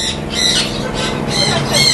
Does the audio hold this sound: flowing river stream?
no